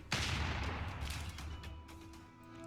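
A unit opens fire in Civilization VI: one sharp, loud blast followed by a long rumbling decay, with game music or ambience continuing underneath and no voices.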